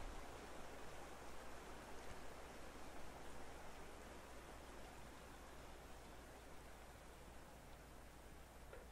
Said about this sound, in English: Sounds nice with the river there, doesn't it?